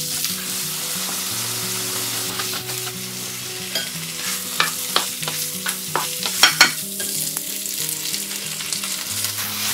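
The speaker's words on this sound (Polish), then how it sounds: "Bezpośrednio na podgrzaną oliwę wrzucam cebulę, śliwki, anyż oraz cynamon." Onion, plums, anise and cinnamon fry in hot olive oil with a continuous close sizzle. Sharper crackles and spatters come through in the middle, beneath a backing of steady tones.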